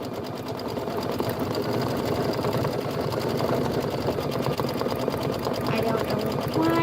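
An embroidery machine stitches out a Kimberbell Blossom Beehive and Blossom Swing block with a fast, steady, rhythmic mechanical chatter that runs unbroken throughout, with someone talking over it.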